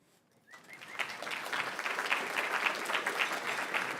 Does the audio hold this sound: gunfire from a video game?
no